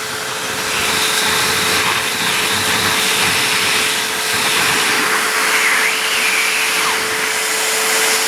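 A vacuum cleaner sucks air through a car diesel particulate filter removed from the car, a steady loud whine with a constant tone that holds throughout with slight shifts in pitch and airflow.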